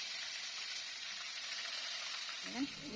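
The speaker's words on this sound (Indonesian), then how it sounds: "Jadi tahunya ini aku biarin aja di dalam minyak panas ini" Tofu left in hot oil in a pan after the flame is switched off makes a faint, even frying hiss, ending with a brief clunk.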